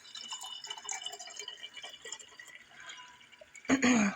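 Brewed green tea is poured into a jar for kombucha, a short splashing pour arriving near the end after quiet room tone and light handling sounds.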